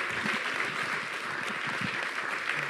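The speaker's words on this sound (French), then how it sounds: "On peut l'applaudir." Audience at a French talk on AI and fact-checking applauds a speaker, a sustained patter of clapping from a seated crowd, fairly soft and even with faint murmurs underneath.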